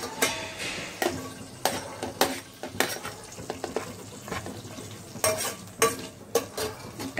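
Green chillies and curry leaves frying in hot oil in a pan, a close sizzle punctuated by repeated sharp spatula scrapes and clinks as they are stirred.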